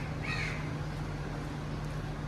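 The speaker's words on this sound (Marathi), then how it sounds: "म्हणजे कोणता तरी पक्षी" A crow caws loudly in the early morning, a short harsh call early on over a steady low hum and background noise.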